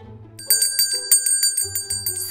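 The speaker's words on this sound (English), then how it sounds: "This bell is powerful" Bright metallic rings from a toy bell on a Barbie doctor hospital playset, struck in a rapid series of about ten chimes over a low hum.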